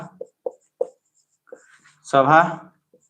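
Writing on a board during a political science lesson: a few crisp, separate strokes and taps spaced about half a second apart, then a voice speaks briefly.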